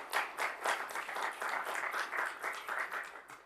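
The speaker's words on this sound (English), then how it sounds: "Can I have a huge round of applause for the team?" Audience applause for a report team at a CEO caucus on solar value chains, a dense, sustained round of clapping from a sizeable crowd that stays strong throughout and tapers slightly at the end.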